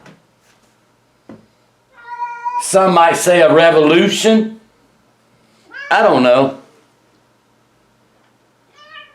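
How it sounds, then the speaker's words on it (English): A pet cat meows indoors in two loud, close, drawn-out cries with a pause between them, and someone speaks briefly before them. "That's my cat"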